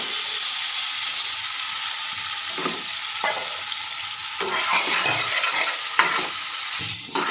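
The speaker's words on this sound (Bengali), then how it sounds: "ঘি গলে গেছে, এবার আমি পনিরটা দিয়ে দেবো। পনিরটা ভেজে নেব।" Paneer cubes coated in oil, turmeric and salt fry in melted ghee for an oats pulao, a steady close sizzle with occasional stirring scrapes and clicks throughout, no voices.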